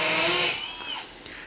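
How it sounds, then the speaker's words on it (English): A power drill whirs on a building site during a conversion job with cement and steel beams, a loud high-pitched spin that fades and drops in level after the first half second. "Hopefully you can hear me over Alex drilling because I've got the mic on"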